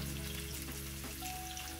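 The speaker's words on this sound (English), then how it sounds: "Stir fry for a few seconds" Garlic and onion stir-frying in a pot for vegetarian Pad Thai, a steady close sizzle with soft stirring scrapes and a faint tonal hum underneath, no voices.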